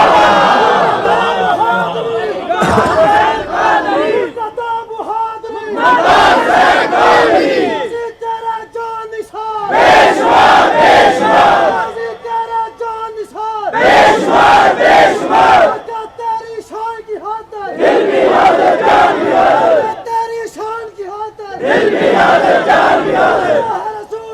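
A large crowd at a protest rally led by Allama Khadim Hussain chants slogans in loud, rhythmic bursts, each roaring surge followed by a brief lull, repeating over and over.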